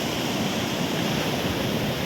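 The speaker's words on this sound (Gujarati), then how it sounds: "દરિયો ખૂબ તોફાને ચડેલો છે. મોટા મોટા મોજા દેખાઈ રહ્યા છે આ બાજુ." Stormy sea surf breaking on Porbandar beach in Gujarat, India, a steady, dense roar of waves with wind, continuous and fairly loud with no voices.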